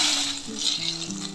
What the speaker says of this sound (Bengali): বেগুনগুলো আমাদের ভাজা হয়ে যাচ্ছে।